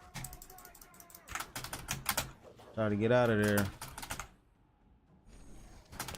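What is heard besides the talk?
computer keyboard being hammered while gaming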